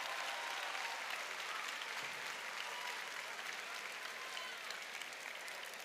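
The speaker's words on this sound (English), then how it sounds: "Let's give a big round of applause for all of the teams that have competed here this weekend." A large arena crowd at the FIRST Pacific Northwest District Championship robotics competition applauds the competing teams, a sustained, even wash of clapping heard at a distance, faint overall, with no speech on top.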